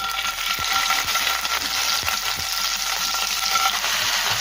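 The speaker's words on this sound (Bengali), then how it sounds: "কড়াইতে তেল গরম করে নিয়েছি। তেলের মধ্যে এখন দেবো কিউব পিসেস করা পনিরের টুকরো।" Cubed paneer fries in hot oil in a kadai, giving a loud, steady, close sizzle with scattered small pops and scraping stirs throughout, and no voices.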